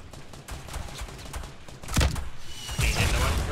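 Gunfire in a Fortnite Battle Royale match, with scattered shots and bursts that grow louder toward the end while the players talk over them.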